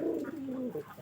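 A pet pigeon coos alone at close range, a soft, low rolling coo with a slight warble, quiet and uninterrupted.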